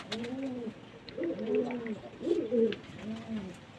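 Several pigeons coo close by while feeding, in repeated low, throaty rolling calls, one after another without pause.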